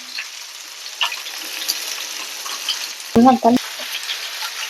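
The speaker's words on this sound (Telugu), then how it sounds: "ఈ విధంగా తిప్పి తిప్పి వేయించుకోవాలన్నమాట బాగా ఎర్రగా వేయగాలి" Chicken leg pieces sizzle in a pan as they crisp up, with a steady close crackle and a few clunks, then a short burst of louder scraping and turning partway through.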